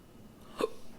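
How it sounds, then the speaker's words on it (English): A single sharp hiccup, a short gasping catch in the throat, heard close and fairly loud against a quiet indoor background. "I have the hiccups."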